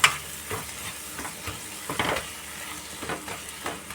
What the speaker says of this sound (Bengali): আর কাশ্মীরি মির্চ দিয়ে মশলাটা আমি কম আঁচে কষাচ্ছি